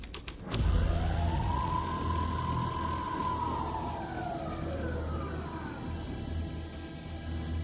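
A police car siren wails in the video game Alan Wake 2, one long rising and falling tone that starts after a thump and then trails off against a low engine-like rumble, moderately distant.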